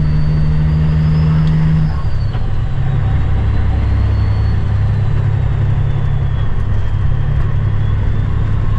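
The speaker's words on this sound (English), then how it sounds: "you can see me shifting, it's manual. It's an 18 speed" Diesel engine of a Peterbilt truck shifting through an 18-speed manual gearbox, a steady loud low drone that drops in pitch after a couple of seconds as the gear changes, then carries on evenly.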